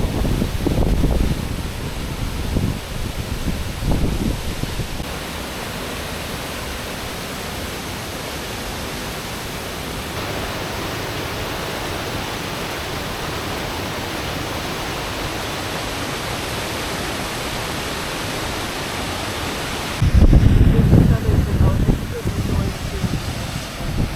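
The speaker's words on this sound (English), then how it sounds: "This is the Gullfoss Waterfall." Gullfoss waterfall in Iceland gives a steady, broad rushing roar throughout, with bursts of wind buffeting the microphone at the start and end.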